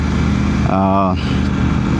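A motorcycle engine drones steadily and loudly during a ride, with wind rush over the microphone and someone speaking briefly over it.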